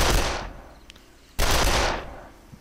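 Two loud rifle shots fired while sighting in, in the game Darkest of Days, each a sharp close blast with a long decaying rumble, about one and a half seconds apart.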